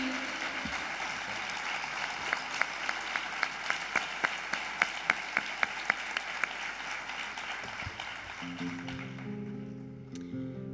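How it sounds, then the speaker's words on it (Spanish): Audience applause at a charity gala, a dense steady wash of clapping from a large crowd that fades toward the end as music begins underneath. "Yo sé que los aplausos son para los dos, pero yo pido uno especial para Pedro"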